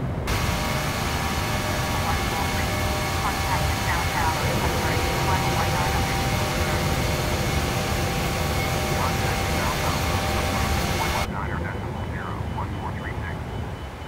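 Boeing 737-800 jet engines spool up for takeoff in Microsoft Flight Simulator, a loud, steady broadband roar with a whining tone that holds for most of the stretch before dropping away abruptly near the end.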